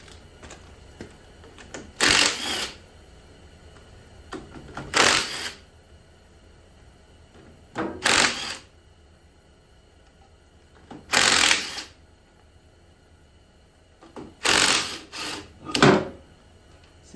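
Power tools working on the clutch of a 1970 VW Beetle engine during a rebuild, giving five separate bursts of rattling impact-driver noise with quiet gaps between them.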